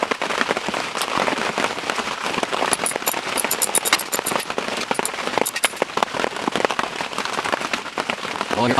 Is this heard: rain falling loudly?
yes